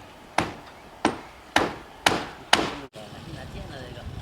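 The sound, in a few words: hammering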